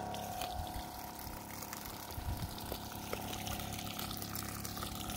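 A 12-volt rainwater pump rated at 50 PSI and 2.9 gallons per minute runs steadily, pushing water from a rainwater tank into a hose, with a constant mechanical hum and flowing water throughout.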